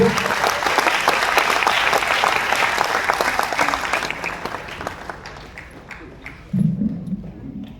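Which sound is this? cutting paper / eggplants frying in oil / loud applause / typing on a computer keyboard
loud applause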